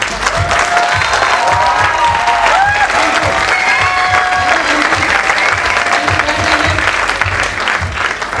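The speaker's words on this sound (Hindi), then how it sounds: "खड़े हो गए जोरदार सर के लिए सम्मान में जोरदार तालियां।" Loud, sustained applause from a large seated audience at a motivational speech event, dense clapping with some crowd noise filling the whole stretch without a break.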